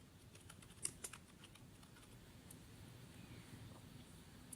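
Typing on a computer keyboard while building charts in Microsoft Excel, a faint, close scatter of soft key clicks in brief bursts with a couple of louder taps, over quiet room noise and without talk.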